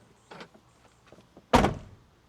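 A Tesla Model 3 car door shuts with a single loud, solid thunk, preceded by a few faint clicks and rustles of handling nearby.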